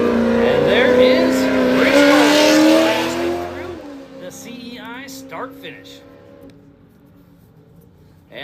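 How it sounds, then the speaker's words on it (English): An Ultra4 off-road race car blasts through the start-finish at the Wild West 100 in Columbus, Montana, a loud roaring engine pass that fades away, with talk over it. "And there is Rich Goldman blasting through the CEI start-finish."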